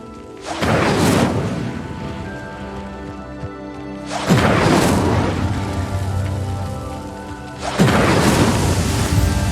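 An Incendio fire spell in the video game Hogwarts Legacy igniting a pyre: three loud whooshing bursts of flame, each swelling suddenly and roaring before slowly fading, spaced a few seconds apart with no talk.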